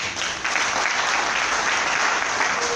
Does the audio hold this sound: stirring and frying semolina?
no